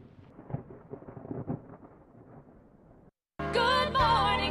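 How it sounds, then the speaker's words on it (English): Thunder rumbles low and heavy through a thunderstorm with rain hiss for about three seconds, then breaks off abruptly into a loud, unrelated tonal passage. "I'm gonna get out of this thunderstorm"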